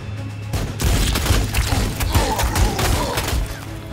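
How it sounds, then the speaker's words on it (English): Artillery fire in the Warhammer 40K Sanctus Reach strategy game. After a brief quiet start, a loud barrage of heavy booms and thuds rolls close together for about three seconds, with sharp cracking blasts layered on top. "I bloody love artillery."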